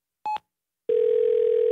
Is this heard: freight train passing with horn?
no